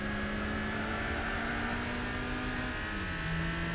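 A Mitsubishi Lancer 1600 engine races in Gran Turismo 4 during a Japanese 80s car event. It holds a steady, loud, droning whine under hard acceleration, and the pitch drops near the end as the gear shifts.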